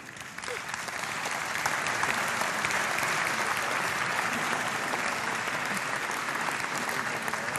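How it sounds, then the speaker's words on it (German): Sustained audience applause for the conductor Anton Lubchenko at a ball with waltz and debutantes, a dense even wash of clapping that swells quickly after the first second and stays loud and steady throughout. "Großer Applaus für ihn."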